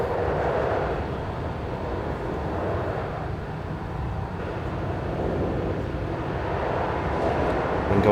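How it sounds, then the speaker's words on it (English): Steady low rumble and rolling rail noise from a train coasting on the Gotthardbahn in Train Simulator 2021, a continuous even drone with no talk. "I'm just going to allow the train to coast at this point"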